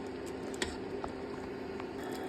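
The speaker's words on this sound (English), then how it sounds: "look at this bubbling goodness" Rose-flavoured sugar syrup for Turkish delight bubbles steadily in a pot, a soft continuous simmer with faint pops and no voices.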